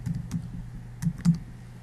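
Several scattered keystrokes on a computer keyboard, quiet and close, clustered in two short bursts against a faint hum.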